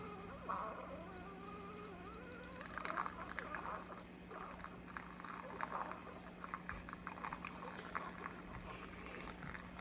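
Keurig Elite coffee maker slowly brewing iced coffee, a steady low gurgling and trickling pour with bubbling bursts, continuous at moderate level with a constant hum beneath.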